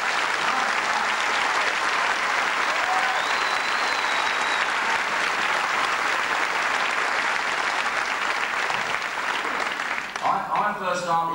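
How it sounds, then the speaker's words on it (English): Audience applause fills a theatre hall before a stage show, steady and dense for about ten seconds before tapering off as a voice begins to speak. "it is worth a big round of applause for what you're about to see"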